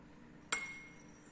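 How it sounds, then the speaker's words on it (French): A single sharp glassy clink as sodium hydroxide is poured into a glass beaker of water, with a brief ringing tail that fades over a quiet background. "Je verse la soude."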